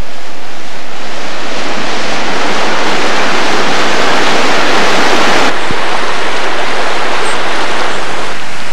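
A loud, steady broadband rush of a waterfall and flowing river beside a riverbank path on the Taff Trail, constant throughout with no voices.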